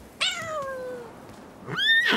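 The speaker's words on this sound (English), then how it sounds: "Definitely not one of Mama Cat's kittens" An animated cartoon kitten meows twice, a long falling meow followed after a pause by a second rising one, close and clear with no talk.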